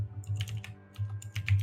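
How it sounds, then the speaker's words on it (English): Loud typing on a computer keyboard during a tabletop game session, quick clustered keystrokes in bursts with a short pause midway, close and prominent with no talk. "Wow, that typing is loud."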